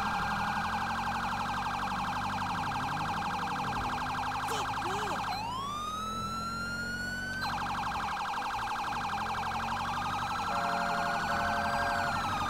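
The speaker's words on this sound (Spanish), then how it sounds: "Y ahora voy a poner la sirena en plan urgencia." Police siren from a patrol car in GTA V with the LSPDFR mod, switched to an urgent mode during a chase; a loud, continuous wailing siren shifts to a rapid yelp pattern and back over an engine drone, no speech.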